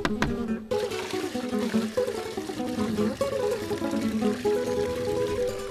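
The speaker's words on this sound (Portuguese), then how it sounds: "colocar na bombona e depois completar até 30 litros de água" Water pours into a plastic drum holding about three kilos of worm humus, a loud, continuous gushing fill that runs steadily for several seconds.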